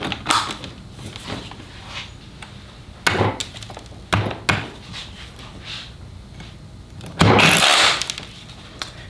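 A Festool KHC 18 cordless rotary hammer with a wide chisel chips in short, loud bursts separated by quieter gaps, with one sustained rattling run near the end.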